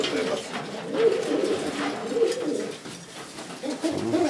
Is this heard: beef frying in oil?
no